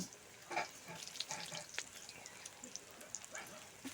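Puffed rice and egg snacks fry in hot oil, giving a faint, crackly sizzle with scattered pops and small bursts, steady and close throughout.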